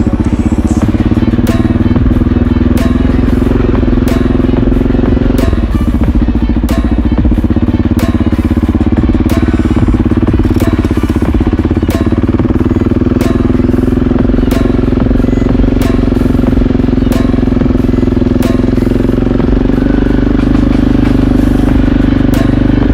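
A motorcycle rides along a rough dirt trail on a hillside track near Alà dei Sardi, Sardinia, its engine droning steadily and close throughout with rattling and clattering from the uneven ground.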